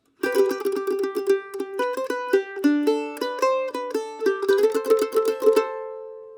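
Mandolin picking a phrase of a bluegrass tune, with steady plucked notes, double stops and open-string ringing, played close and alone before the last note rings out.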